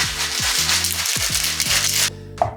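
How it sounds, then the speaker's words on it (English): A cocktail shaker holding coffee liqueur, vodka and simple syrup is shaken hard, giving a loud, dense rattle with rhythmic pulses that stops sharply near the end, followed by a brief clink. "we're gonna shake this up really good"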